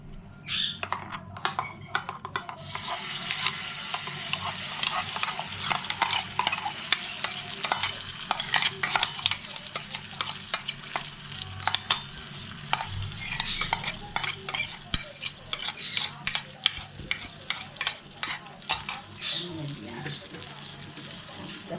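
Boiled, ground paste for shahi paneer goes into a hot pan and is stirred, with a steady sizzle and repeated scraping of a utensil against the pan, close by; a voice talks intermittently over it.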